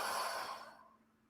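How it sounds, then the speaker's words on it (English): A single soft exhaled breath, close and quiet, trailing off into silence within about a second. "And you exhale."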